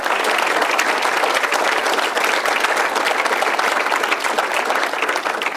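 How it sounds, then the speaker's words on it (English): Sustained applause from an audience at a high school athletic Hall of Fame induction ceremony as the committee members stand, dense clapping holding steady and loud for the whole stretch. "could they stand and we give them a round of applause"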